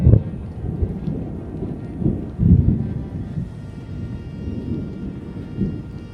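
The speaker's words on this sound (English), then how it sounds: "As you can hear, thunder's pretty close here." Close thunder rolls and rumbles low and heavy through a stormy hiking trail, with repeated swelling booms and faint rain or wind noise beneath, no voices.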